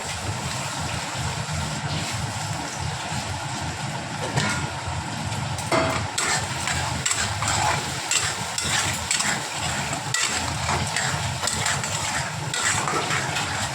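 Pumpkin fritter curry with turmeric and salt is sautéed in a pan, a continuous close sizzle and wet frying hiss with repeated stirring scrapes that grow busier toward the end, no voices.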